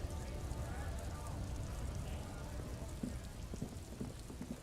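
Steady rain hisses in the Disco Elysium video game, a constant soft wash with scattered faint drops, low and even throughout.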